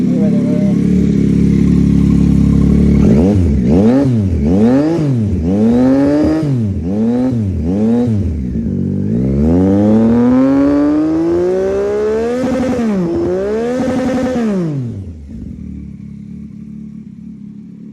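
A Yamaha MT09 SP motorcycle fitted with a loud Austin Racing exhaust and DNA air filter revs hard in a quick series of sharp blips, then one long rising rev before dropping back to a low idle.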